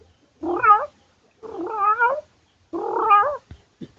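A person imitates a cat, giving three drawn-out, wavering meows in a row, close and clear with short pauses between them.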